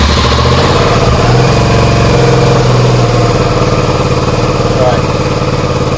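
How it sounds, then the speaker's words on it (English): A Suzuki SV650 motorcycle with a suspected faulty stator idles loudly and close by, a steady, continuous engine rumble that holds an even pitch throughout. "So we go for engine on."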